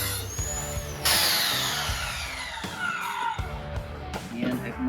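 A corded Ryobi 7 1/4-inch circular saw cuts with a loud, close whine that rises and drops in bursts as the blade bites and frees.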